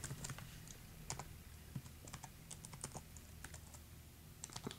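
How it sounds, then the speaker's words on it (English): Keys on a 2008 unibody MacBook keyboard are tapped in quick irregular bursts while a password is entered, faint and close, with a low hum underneath and no speech. "I'm going to type my password in."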